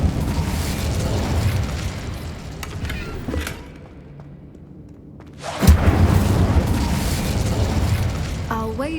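Incendio fire spell cast in the video game Hogwarts Legacy, a deep whooshing burst of flame after a brief lull, then a sustained roaring rumble with rattling debris, loud and close.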